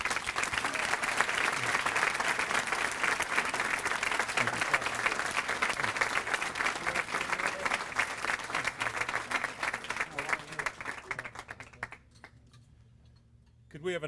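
Audience applause at a chamber business awards ceremony for honorees, dense sustained clapping from a crowd that runs loud and steady before tapering off abruptly into near silence.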